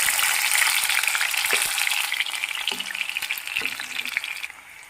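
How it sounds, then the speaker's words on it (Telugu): Onions hit hot oil in a pan and sizzle loudly and steadily at close range, with a few soft clinks, before the frying noise gradually fades near the end. No one speaks. "ఇప్పుడు కొంచెము ఆనియన్స్ యాడ్ చేస్తున్నా"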